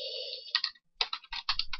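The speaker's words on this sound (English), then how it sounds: "So we'll just type in title." A computer keyboard is tapped in short bursts of crisp, close clicks with brief pauses between them, and nobody speaks.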